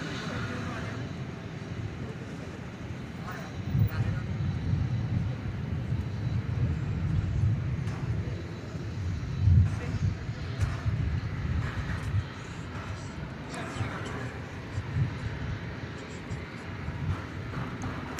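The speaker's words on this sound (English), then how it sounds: "From Portland, Oregon, cometh this Airbus A321. It's American Flight 2655." American Airlines Airbus A321 jet, Flight 2655 from Portland, Oregon, at Dallas/Fort Worth Airport, a steady low engine rumble with broadband roar that swells slightly midway, heard at moderate distance against outdoor background.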